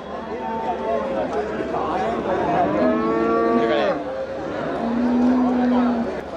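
Cattle moo several times at a busy outdoor cow market in Melapalayam, drawn-out lowing calls rising over steady crowd chatter and nearby voices of people bargaining.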